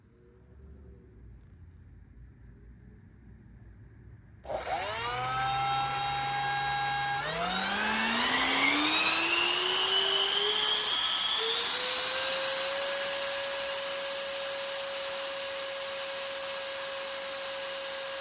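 An electric ducted fan on a static thrust rig spins up abruptly from near silence into a loud whine, its pitch climbing in steps before holding a steady high-speed scream, close and uninterrupted.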